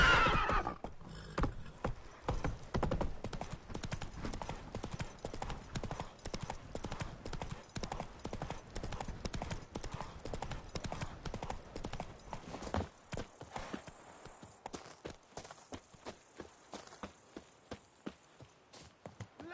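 Horse hooves in Witcher 3 Blood and Wine clip-clop in a steady, close, rhythmic trot that carries on for nearly twenty seconds, with a whinny near the start and faint game sounds underneath.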